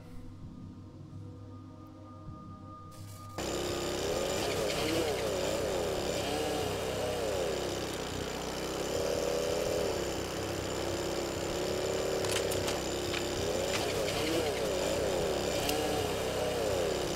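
A small engine in the game Wasteland 2 starts abruptly after a few quiet seconds, then runs as a steady, buzzing drone with a slightly wavering pitch, loud and continuous to the end.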